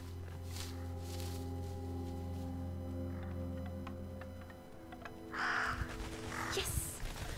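Crows caw and flutter in a snowy Scandinavian forest setting in the game Roki, scattering after a non-lethal bird repellent is thrown, with a steady low hum underneath and a few scattered bursts of cawing near the end.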